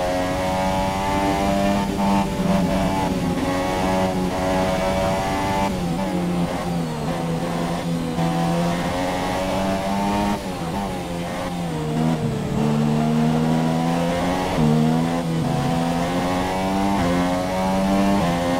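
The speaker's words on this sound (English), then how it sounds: "You can even kind of hear it in the engine a little bit. Like, it doesn't sound as crisp as it did when I first started playing." A slightly worn Formula 1 car engine from the F1 2017 racing game at the Chinese Grand Prix screams continuously at high revs, its pitch dipping and climbing with each gear change and corner, loud and steady with no voices.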